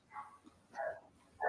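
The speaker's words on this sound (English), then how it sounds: "Barking" A dog barks three times, short and somewhat distant, with quiet pauses between each bark.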